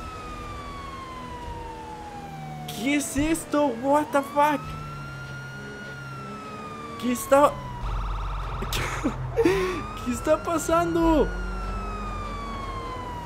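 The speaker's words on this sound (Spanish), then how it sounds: "Obviamente se escucha como una patrulla." A police car siren in the video game Grand Theft Auto V wails and sweeps up and down continuously while someone speaks excitedly over it in short bursts.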